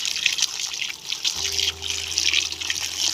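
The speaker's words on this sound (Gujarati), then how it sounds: "ચાલો આપણે આમાં હવે પાણી નાખીએ" Water is poured steadily into powder to mix a natural pollination spray for Israeli date palms, making a continuous close splashing trickle, with a low steady hum joining midway.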